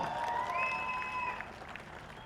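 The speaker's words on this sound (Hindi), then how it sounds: "जोरदार तालियां हो जाए" A crowd claps in a broad wash of applause at a TV serial launch event, moderately distant, with a tonal whistle or music line riding over it before fading slightly.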